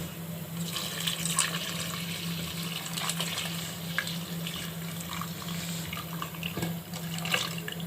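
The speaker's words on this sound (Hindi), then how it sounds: "अब हम इसके अंदर दूध डाल देंगे।" Milk is poured into a pan of fried almonds and poppy seeds, making a continuous, gentle liquid rush and bubbling that stays close and even for several seconds.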